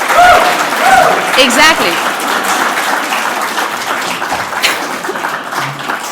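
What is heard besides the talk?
conference audience applauding a speaker's entrance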